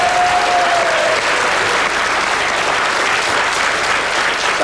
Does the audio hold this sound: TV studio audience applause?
yes